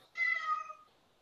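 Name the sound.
person imitating a cat meowing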